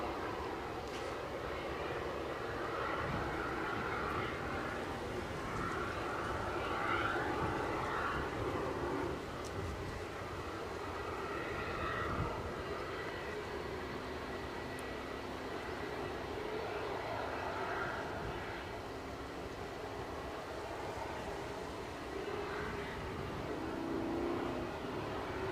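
Lufthansa Airbus A319 in special livery at Edinburgh Airport, a faint, distant steady jet engine hum with soft swells, heard alone over low background noise.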